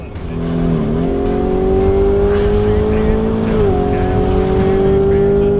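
Engine of a Lamborghini Urus at full throttle on a test drive, a loud, steady roar rising in pitch with one brief gear-shift dip, heard from inside with traffic noise around.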